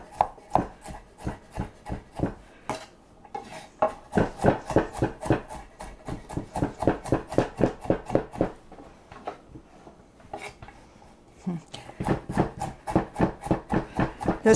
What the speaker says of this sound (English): So we're just going to cut those slices crosswise.